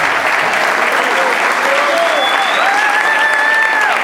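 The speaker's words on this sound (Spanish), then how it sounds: "Usted empezó a aplaudir" A church congregation claps loudly and steadily, the applause dense and unbroken, while a voice carries on over it, rising and falling in pitch.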